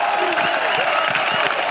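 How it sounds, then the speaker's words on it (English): A church congregation at a New Year's Eve vigil claps together, a steady crowd applause with cheering voices mixed in, loud and continuous. "Let's clap for Jesus."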